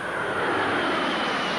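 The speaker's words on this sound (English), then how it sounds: "But the tiltrotor is quiet, considerably quieter than a helicopter, and much less noticeable than an airplane" NASA XV-15 tiltrotor aircraft in flight, a steady, fairly loud broadband engine and rotor roar that holds evenly throughout, with no voices.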